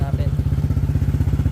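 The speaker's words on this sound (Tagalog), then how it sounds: "So ganito yung tunog ng JBT B35 dito sa Honda Click 160." A Honda Click 160 scooter with a JBT B35 exhaust idles nearby, giving a loud, low, steady putter of rapid even pulses with a deep throaty tone.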